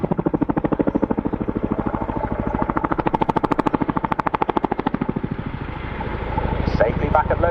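A Chinook helicopter flying a display at the RAF Cosford Air Show, its twin rotors beating in a loud, steady, rapid thudding that swells and fades slightly as it passes, with a deeper roar building near the end.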